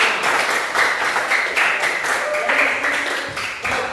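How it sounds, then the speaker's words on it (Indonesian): A classroom group applauds together after a student discussion session, with dense, continuous clapping at close range lasting throughout, a few stronger bursts rising and falling within it. "Kita berikan aplaus untuk kita."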